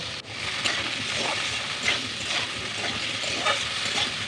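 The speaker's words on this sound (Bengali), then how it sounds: "এই তেলের মধ্যে আমি ইঁচড়টা দিয়ে দেবো, দিয়ে শুধু নুন দিয়ে ইঁচড়টা ভেজে নেব।" Jackfruit pieces fry with salt in hot oil in a pan, a steady close sizzle and hiss with occasional stirring scrapes and soft crackles, no voices.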